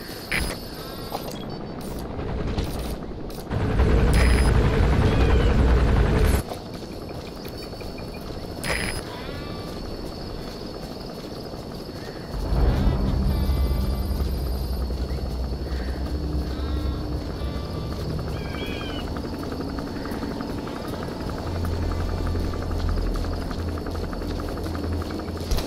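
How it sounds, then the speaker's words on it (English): Helicopter landing in Metal Gear Solid V, a low rotor rumble swelling in two heavy bursts amid game ambience with bleating sheep and other animal calls. "There's a chopper landing."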